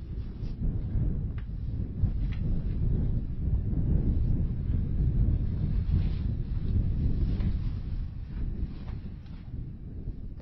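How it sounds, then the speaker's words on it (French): Wind moves through the galleries of a historic granary, a continuous low, rumbling gusty roar that swells and eases slightly, close to the microphone with no voices. "300 cases réparties dans 3 galeries, où le vent n'arrête jamais de chanter."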